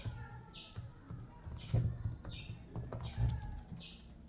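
Someone types HTML code on a computer keyboard in a series of soft, irregular keystrokes with short pauses, fairly close and quiet; faint bird chirps are heard in the background.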